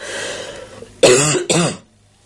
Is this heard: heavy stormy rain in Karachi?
no